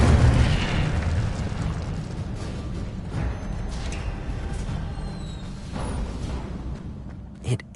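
An Incendio fire spell blasts out in the video game Hogwarts Legacy: a loud burst at the start trails into a long roaring, rumbling wash, with a few smaller pops and a sharp crack near the end.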